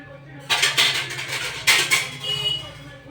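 A spoon stirring fish tomato curry in a metal pot, several loud scraping clanks in short bursts close by, with a voice faintly underneath.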